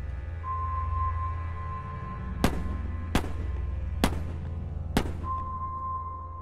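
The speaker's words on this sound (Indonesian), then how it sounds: "Lalu terdengar 4 kali tembakan dari dalam mobil." Four sharp gunshot bangs fired inside a car ring out at steady intervals over a constant low hum and a faint tone.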